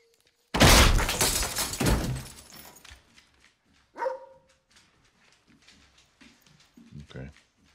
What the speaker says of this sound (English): Confirmation the bark means all is clear.